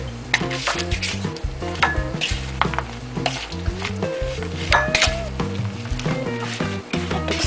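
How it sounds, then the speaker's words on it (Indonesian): Peanuts being stirred with wheat flour in a bowl until coated, giving steady scraping and clinking of a utensil against the dish, with tonal background music running throughout. "Aduk-aduk sampai terigu menempel pada kacang."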